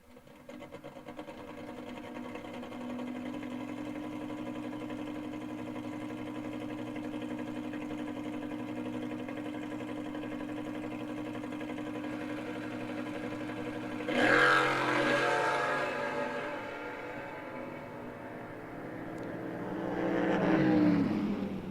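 Drag racing pair at a Stars and Stripes New Year's event: a little red pickup truck and a Firebird idle with a steady loud rumble, then a sharp engine rev bursts in, fades, and a second rev swells at the end.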